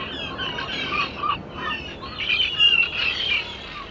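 Several birds chirp and tweet in a busy, overlapping chorus of high calls, steady and fairly close with no talking.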